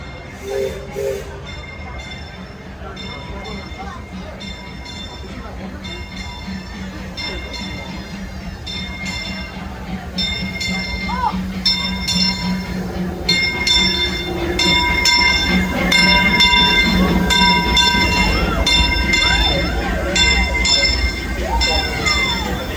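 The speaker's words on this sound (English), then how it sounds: "Limited, now arriving from a trip around Walt Disney's Magic Kingdom." A Disneyland Railroad steam train pulls into its station at Disneyland Park, its bell ringing in steady repeated strokes while a low rumble of wheels and engine grows louder as it nears, under a recorded station announcement.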